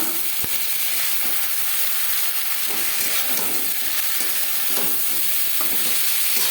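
Vola fish frying in a pan for a curry gives a constant loud sizzle and steam hiss, with scattered stirring scrapes and taps close by.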